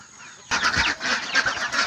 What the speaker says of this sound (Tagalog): Doon naman tayo sa ating mga sisiyo na manok